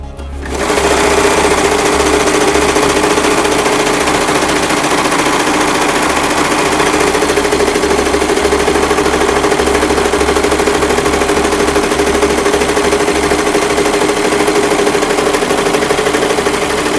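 A sewing machine binds the seams of a Christmas stocking in one loud, continuous, close run with a fast rattling hum that starts abruptly and holds steady to the end.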